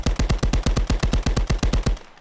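An MP 40 submachine gun in 9x19 Luger fires a single long burst of about fifteen evenly spaced, loud, sharp shots that ends abruptly into a short fading echo, with no talking.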